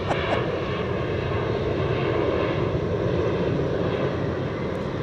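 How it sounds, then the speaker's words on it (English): A Beechcraft 1900 turboprop at DFW airport gives off a steady, broad engine roar with no break, fairly loud and continuous throughout. "it's a Beechcraft 1900"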